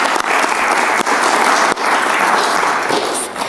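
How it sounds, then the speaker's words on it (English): A church congregation claps loudly and continuously during a service, a dense, close wash of hand claps with a couple of brief dips, unaccompanied by speech. "Give the Lord a hand clap here today."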